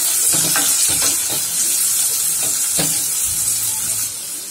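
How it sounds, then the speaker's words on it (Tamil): Two onions go into hot oil with a tablespoon of cumin seeds in a kadai, giving a steady loud sizzle with scattered crackles and stirring scrapes, no voices. "சீரகம் நல்லா பொரிஞ்சதும் ரெண்டு வெங்காயத்தை சேர்த்துக்கலாங்க"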